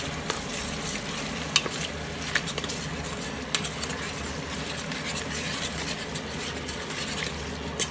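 Tomato paste is stirred into a pot of hot, frying oil, producing a continuous sizzle with scraping and occasional clinks of the spoon against the pot. No one speaks.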